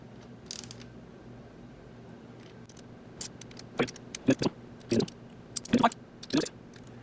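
Ratchet tightening the cylinder head bolts on a Honda ATC 200x engine, with quick clicking bursts that start sparse and become denser and louder, close up, over a faint steady hum and no speech.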